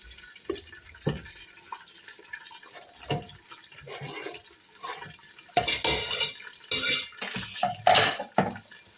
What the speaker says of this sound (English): And I'll give it a good stir.